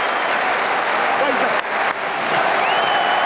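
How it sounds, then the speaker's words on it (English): Large football crowd at Anfield, with a new all-seater Kop, applauding striker Robbie Fowler during a Premier League match; dense, steady clapping and crowd roar fill the whole stretch, loud and continuous with a couple of brief dips. "Fowler getting the applause from his adoring fans."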